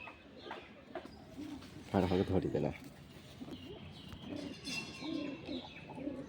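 Pigeons coo in a loft of Giribaz and Madras birds, soft rolling calls with a brief louder flurry, heard beneath ongoing nearby talk.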